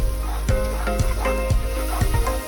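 Cumin and garam masala powder dropped into hot oil for a fish-head and cabbage dish crackle and sizzle loudly up close, with sharp, regular clatters of stirring against the pan.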